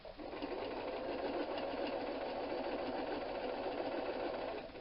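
A sewing machine stitches a quilting block for a Christmas tree design, a close, steady whirring run of rapid needle strokes that continues unbroken with no talking.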